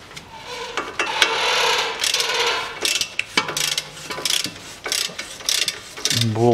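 A ratchet socket wrench with an 18 mm socket unscrews a rusted nut at the back of a front left strut mount on a Volkswagen Tiguan, giving close, loud bursts of rapid clicking with brief pauses between them.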